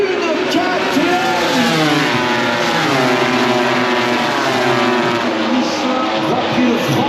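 Honda, Ducati and KTM MotoGP racing motorcycles scream past at the French Grand Prix, several engines overlapping in a loud, sustained high-revving whine with rising and falling pitch under a commentator's voice.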